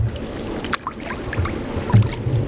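A canoe is paddled across open water in Georgian Bay, with soft splashes and water swirling against the hull over a steady background of wind and lapping water.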